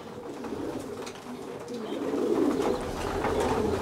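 Racing pigeons coo softly and continuously while being fed, the low throaty calls overlapping and growing slightly louder toward the end.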